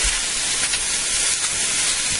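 Chicken searing and blackening in a dry frying pan, a loud, continuous broadband sizzle and hiss, close and steady with no pauses, alone without talk.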